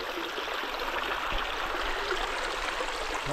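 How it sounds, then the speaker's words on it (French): Fourgassier waterfall in French Guiana, a continuous broadband rush of falling water, steady and moderately loud, with no voices. "voilà les chutes, magnifiques"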